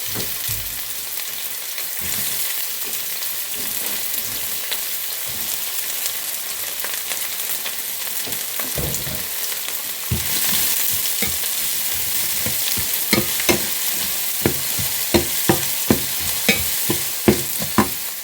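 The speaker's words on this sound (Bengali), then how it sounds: "তেল দিয়ে দিচ্ছি, একটু পেঁয়াজ" Onion fries in oil in a pan, with a loud, continuous sizzle close by. In the second half, a series of sharp, rhythmic scrapes and clicks from stirring cut through the crackle.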